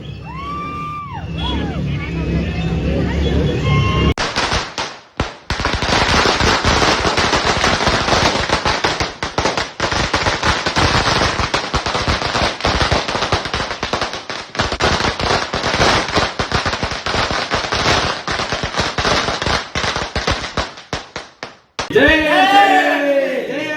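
Firecrackers burst in rapid, dense, crackling strings for about seventeen seconds as RCB cricket fans celebrate the team reaching the final, loud and close, with voices and cheering before and after.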